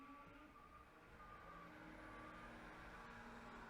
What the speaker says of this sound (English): Can the truck be any louder?